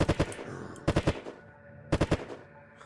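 A gun fires at zombies in the survival game Unturned in three short bursts of about three rapid shots each, loud and close, with brief quiet gaps between bursts.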